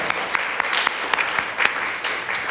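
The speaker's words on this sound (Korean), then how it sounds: "우리 캠프에 수고하신 모든 분들을 위해서 한번 박수로 서로 격려하겠습니다" A church congregation in Jeju applauds together during a Sunday service, a steady, close crowd clapping that holds evenly throughout with no pause.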